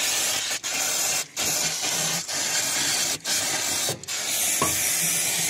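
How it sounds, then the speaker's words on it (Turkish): A can of brake cleaner sprays in several long, loud hissing bursts, each broken by brief pauses, during servicing of a Mercedes Sprinter 313 CDI van. "balata spreyi ile şöyle güzelce temizliyorum"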